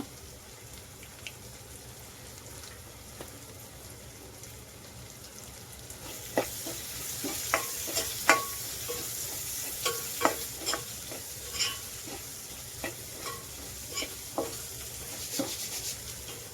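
Asafoetida hits hot oil in a pan for a spinach bhaji: a quiet hiss swells into bright, crackling sizzle about halfway through, peppered with repeated sharp pops and spatters, close and without talk.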